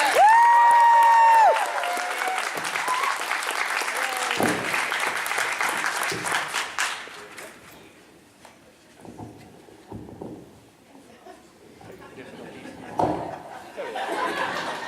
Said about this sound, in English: let's give a big round of applause to Tony Oliver